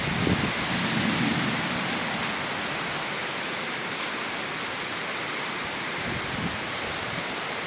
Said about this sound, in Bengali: অনেক অনেক ঝড় বৃষ্টি হচ্ছে।